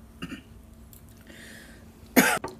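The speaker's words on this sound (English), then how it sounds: "I'm coughing." A person coughs after eating extremely spicy volcano noodles: a couple of small coughs early on, then one loud, harsh, close cough burst near the end, with quiet room noise between.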